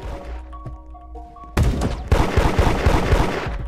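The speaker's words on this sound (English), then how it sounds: "who is shooting me?" Gunfire in the Roblox game Da Hood erupts after a quieter stretch with a few faint tones, becoming a loud dense rapid volley of shots that continues to the end.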